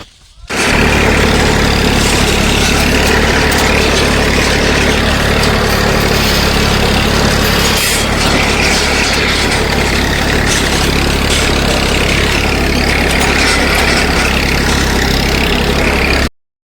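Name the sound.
tractor engine running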